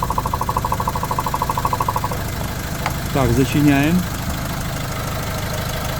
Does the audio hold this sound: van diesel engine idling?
yes